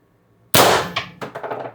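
A single loud, sharp shot from an X-68 Punisher air gun firing an 8.5 gram slug at 800 psi, a hard crack with metallic clanging and ringing rattles trailing off after it, close by.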